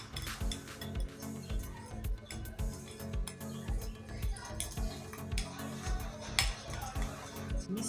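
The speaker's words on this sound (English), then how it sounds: "Then you mix it very well." A spoon scrapes and clinks steadily against a bowl while a homemade face scrub is mixed, the quiet, close ticking and scraping repeating in a busy rhythm with some talk between the strokes.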